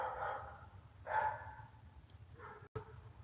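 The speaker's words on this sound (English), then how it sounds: "Yep, there go the others. Now they're responding to the bark." Dogs bark outdoors near a camper, three separate howling barks spread over a few seconds at moderate distance, with a low rumble of background noise and a brief dropout near the end.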